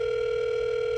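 A steady telephone tone drones on unanswered, a continuous electronic pitch that stays level and loud throughout with no pauses or voices.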